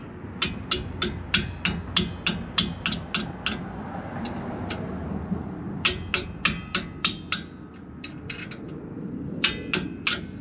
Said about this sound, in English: use a little persuasion with a hammer